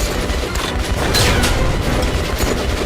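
Grenade explosions in the Metro Last Light video game make a few rough, booming blasts that rise over a dense rumble of in-game noise, with no voices.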